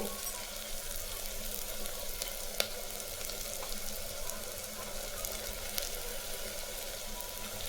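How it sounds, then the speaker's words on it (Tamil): Chili powder sautés in oil with a constant, even sizzle close by, punctuated by a couple of sharp clicks of a spoon against the pan. "நல்லா மிளகாய்த்தூள் வாசனை போகிற வழி வதக்கிங்க"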